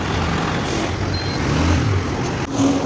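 Dense road traffic stuck in a heavy jam at night, a steady loud rumble of trucks, cars and buses close by, with engine drone and brief brake hiss, no talk.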